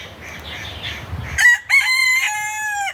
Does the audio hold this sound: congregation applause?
no